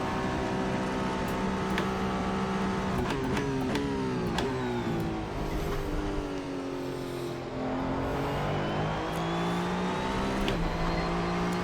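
The URD Moyoda Hypercar in Assetto Corsa screams down the Mulsanne straight at Le Mans, its engine note steady and high, rising through gear changes with short dips between shifts, loud and continuous.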